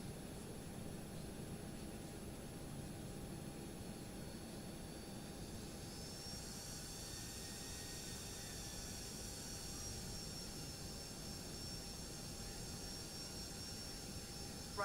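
Toliss A321neo jet airliner spooling up for takeoff on runway 16 at Jorge Chavez International Airport in X-Plane 12, a steady loud engine roar with high whine, continuous throughout with no talk.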